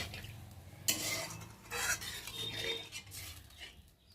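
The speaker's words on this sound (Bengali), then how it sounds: "আর এখন আমি একটু নেড়ে দেবো" A spiced khoyra fish curry is stirred in a pot, with quiet scraping and clinking of a utensil in bursts over a faint simmer.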